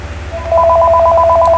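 Loud, clean steady telephone tone that starts abruptly partway through and holds as a continuous pulsing beep, alone without voices.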